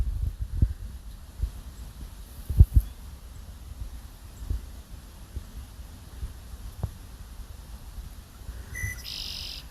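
Small bird chirping by the edge of the water, a few brief faint calls scattered over steady outdoor ambience with low thumps and handling noise.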